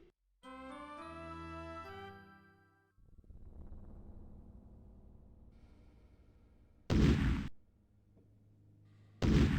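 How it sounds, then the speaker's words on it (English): In the Sierra video game Space Quest III, a loud, harsh burst of explosion noise hits twice in quick succession, following a chiming synthesized melody and a low rumbling drone. "There is one explosion sound effects, by the way, in Sierra games."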